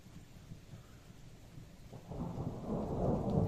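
Low thunder rolls in the distance among the mountain villages of Uttarakhand, India, swelling into a deeper, louder rumble in the second half, with a soft patter of rain beneath.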